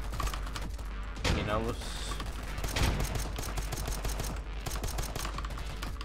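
Rapid pistol gunfire in a first-person shooter game, a dense run of sharp shots over ongoing game noise, with someone briefly talking.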